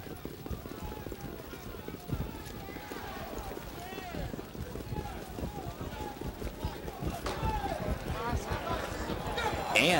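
Harness racing horses trot away from the starting gate at the Meadowlands, hooves drumming in a fast, continuous patter that grows louder, with a race announcer calling over them.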